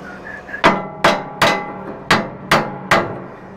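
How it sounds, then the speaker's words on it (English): A hammer strikes a piece of pipe, driving it into the bow of a boat under restoration with ice strengthening, six sharp metallic blows at a steady rhythm, close and loud with a faint hum between them. "just going to jam it in with the hammer"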